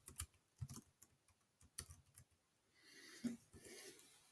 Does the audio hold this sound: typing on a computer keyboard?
yes